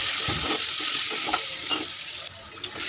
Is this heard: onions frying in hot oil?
yes